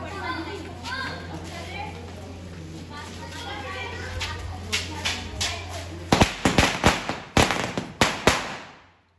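A string of Diwali firecrackers (ladi) bursts in a rapid crackling run of sharp pops near the end, after a stretch of background hum, children's voices and chatter, ending in loud close bangs.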